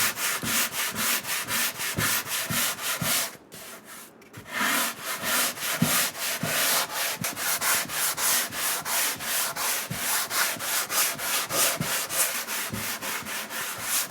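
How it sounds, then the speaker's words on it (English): A sanding block rubbed by hand over wood clamped to a workbench, making steady rhythmic back-and-forth scratchy strokes, close and fairly loud, with one brief pause partway through. "So let's try it first with just a sanding block."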